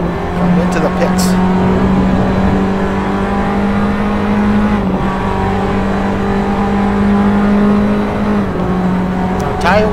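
Formula Abarth race cars in a racing video game pull into the pits at Monza, a loud sustained engine drone with steady whining pitch and a shift dip midway, constant and close throughout.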